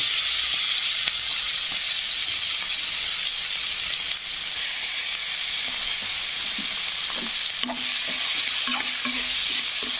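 Onion seasoning fries in a pan, giving a dense, even sizzle that runs without a break, with a few faint stirring scrapes toward the end, close up and without any voices.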